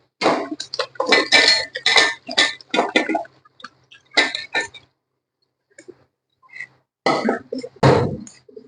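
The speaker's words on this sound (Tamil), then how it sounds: "இப்ப நம்ம வேக வச்ச சிக்கனை இதுல சேர்த்துக்கலாம்." Cooked country chicken is tipped into masala in a metal pan and stirred, giving close, bursty clinks and scrapes in clusters separated by short pauses.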